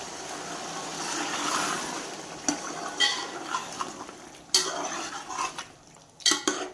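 Yogurt being stirred into chicken pulao in a pot, with irregular metallic scrapes and clinks of a spoon against the pot, close and uneven.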